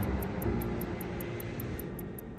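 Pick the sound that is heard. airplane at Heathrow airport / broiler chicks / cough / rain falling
airplane at Heathrow airport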